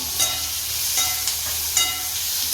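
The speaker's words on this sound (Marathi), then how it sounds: "चांगली फ्राय करते म्हणजे भाजून घेते तेलामध्ये" Spinach roll curry gravy fries in oil with a continuous soft sizzle and hiss, broken by a few brief crackles and spatters, close by and without speech.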